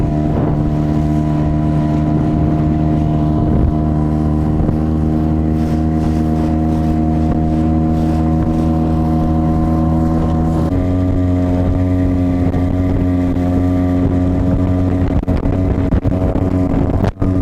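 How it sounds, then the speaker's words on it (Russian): A Yamaha 5 outboard motor with its original 8-pitch propeller runs continuously on a boat, a loud steady droning hum that shifts pitch partway through, with wind buffeting the microphone and no voices. "давайте теперь посмотрим, как поедет Yamaha пятерка"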